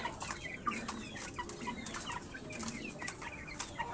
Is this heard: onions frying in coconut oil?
no